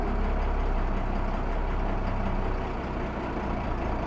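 A custom off-road expedition van's engine running as the clutch is let out, a loud, close, steady low rumble that eases slightly toward the end, with no talking.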